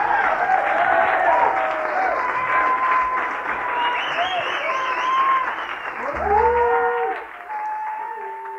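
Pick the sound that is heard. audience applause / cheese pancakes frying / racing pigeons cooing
audience applause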